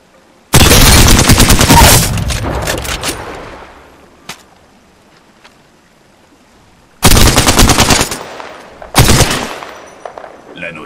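Bursts of loud automatic gunfire in the battle royale game Apex Legends: a long close burst of about a second and a half, a quiet gap with a single shot, then two more short bursts near the end.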